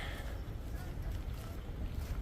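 Outdoor water flows in a steady low rush, a continuous broadband wash mixed with some wind noise, with no talk over it.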